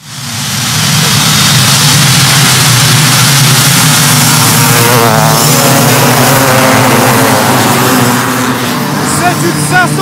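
A KX 500 motocross bike's two-stroke engine at a beach race, loud and continuous, with a sputtering, crackling burble over a roaring engine bed and crowd talk mixed in.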